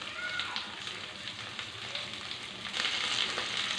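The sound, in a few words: onion, green chili and curry leaves frying in pan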